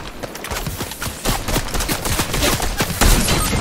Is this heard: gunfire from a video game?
yes